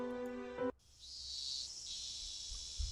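A great chorus of cicadas sounds under strong summer sunlight in the video game Higurashi. A brief tonal note cuts off, then a steady, shrill, high buzzing drone carries on alone.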